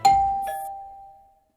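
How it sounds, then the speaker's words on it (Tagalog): A doorbell in a video game story rings with a clear electronic ding followed by a second tone, ringing out cleanly and fading over about a second in near silence. "Just then, the doorbell rings again, in a most untimely fashion."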